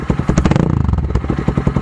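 Motorcycle with an Akrapovic dual outlet muffler and no silencer revving once, the close, loud burble rising quickly into a sharper, rapid-firing roar before settling back, no voices.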